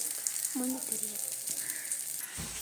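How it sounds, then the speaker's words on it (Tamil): Oil bubbling around kara kuzhi paniyaram frying in a pan, a faint continuous hiss and fizz with a few soft clicks, a quiet voice briefly murmuring over it. "பாருங்க எண்ணெய் எப்படி பபுள்ஸ் விடுது."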